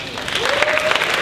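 Comedy club audience at a music hall clapping in a steady, dense patter for just over a second, with faint crowd murmur mixed in.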